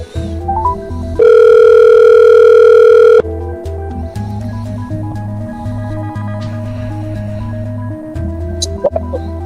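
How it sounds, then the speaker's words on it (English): An outgoing phone call is dialed, giving a short burst of dial tone, then a steady, loud ringback tone that holds for about two seconds, followed by a low droning hum on the line. "I'm going to call Karl real quick."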